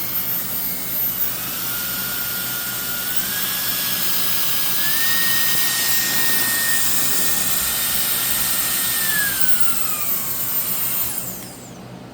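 A MECO rechargeable mini blower runs continuously while clearing leaves off a garage floor, giving a loud, steady, high-pitched whine that ramps up, holds, then winds down at the end.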